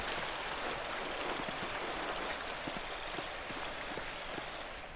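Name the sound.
waterfall flowing in the video game Pentiment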